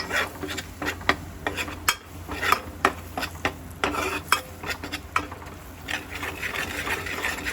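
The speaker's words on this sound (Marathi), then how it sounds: "व्यवस्थित हलवून घ्यायचं" Turmeric, chili powder, gram flour and garlic being stirred in a pan for a crab curry, with a steady run of close scraping and tapping stirs and a faint sizzle underneath.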